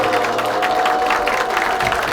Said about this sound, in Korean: 그럼 큰 박수로 맞이해주세요.